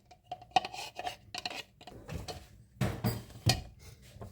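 A spoon scrapes and clinks against a jar of homemade speculoos spread in short, irregular strokes, close and fairly quiet, with no talk.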